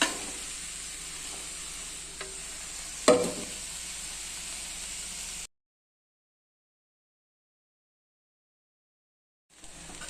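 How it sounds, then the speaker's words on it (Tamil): Cooled cooked rice stirred into a frying pan with spring onions and pepper, a steady sizzle with scraping stir sounds and one sharper clatter, then a long silent gap before the sizzle returns. "நம்ம எல்லாத்தையும் கிளறிக்கிட்டோம்"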